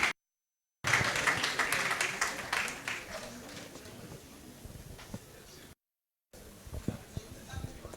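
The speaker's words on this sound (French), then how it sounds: "On peut l'applaudir." An audience applauds at a national press week closing and award ceremony. The clapping starts as a dense burst, then thins into scattered claps, and a short gap breaks it twice.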